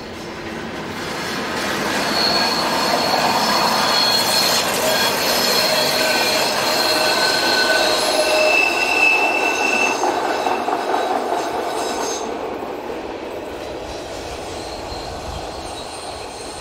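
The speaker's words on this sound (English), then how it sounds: "101963 is seen heading a short northbound ballast working" Locomotive 101963 heads a short northbound ballast train along a rail line, swelling to a loud rumbling pass with squealing wheels and clattering wagons before fading away.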